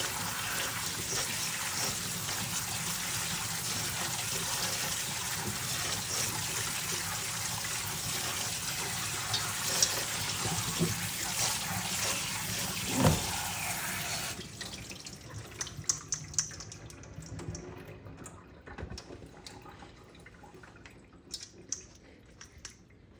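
Cow skin being washed under a running tap, a steady rush of water for about fourteen seconds, then the flow stops and scattered drips and handling noises follow, with no talking.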